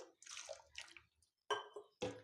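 Water splashes and pours in a few short bursts into ground wheatgrass for juice, with brief pauses between them, close by.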